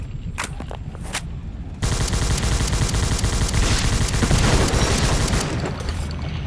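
A Thompson submachine gun in the video game World War Heroes fires a long, loud, rapid automatic burst lasting several seconds, preceded by a couple of isolated sharp shots.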